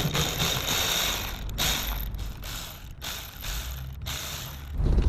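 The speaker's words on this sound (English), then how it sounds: "he's going to use my Milwaukee Ratchet with a 10mm socket, and he's going to loosen the 2 clamps that hold the air tube to the throttle body" A Milwaukee ratchet with a 10mm socket loosens hose clamps on the air intake tube of a Toyota FZJ-80 Land Cruiser engine, producing close, steady rapid ratcheting clicks in several bursts with brief pauses between them.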